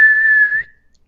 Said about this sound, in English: Was that whistling though, right?